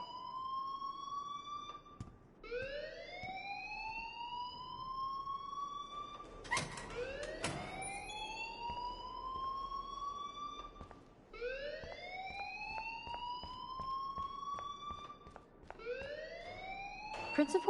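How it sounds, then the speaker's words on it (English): A school alarm in the video game Life Is Strange wails in steady, repeating rising sweeps that run continuously at a fairly low level, with faint background noise beneath. "please turn off that alarm since that's your job"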